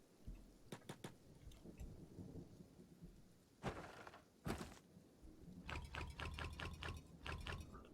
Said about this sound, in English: All right, thorns and red rain.